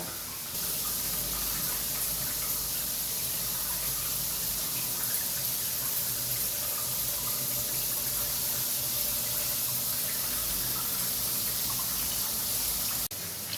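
Newly fitted bathroom shower running, a steady broadband hiss of spraying water that starts abruptly and continues evenly, close by, with no voices, then cuts off near the end.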